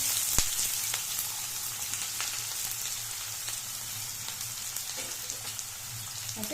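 Chopped medium onions sizzle and fry steadily in hot oil in a pan for drumstick sambar, a continuous close crackling hiss with a few small clinks near the end.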